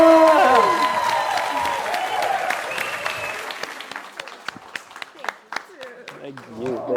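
Applause from a spiritual comedy club audience greets a performer taking the stage, loud at first and then thinning into scattered claps as a voice begins talking.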